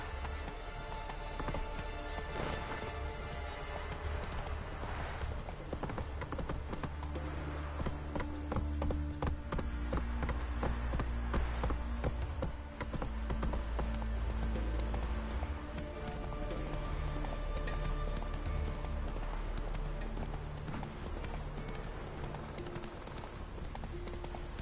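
Hooves of Roach, a horse in a video game, clip-clop in a fast galloping rhythm throughout, loud and close over game music and ambience.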